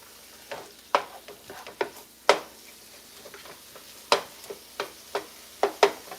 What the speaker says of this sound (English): I'm going to stir it around a little bit